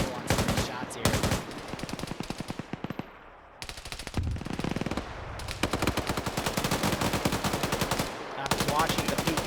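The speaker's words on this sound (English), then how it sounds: "Watching the PKP gunners just randomly fire here." Bursts of PKP machine gun fire from a video game battle, rapid repeated rounds in long loud volleys with brief pauses between, dense and close.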